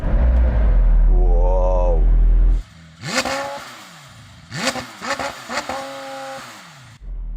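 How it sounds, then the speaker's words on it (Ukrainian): A McLaren Senna engine revs hard several times in quick bursts against a 4,000 rpm limiter, each rising and falling sharply, after an earlier steady idle drone. Close and loud. "Спершу послухаємо цей Макларен."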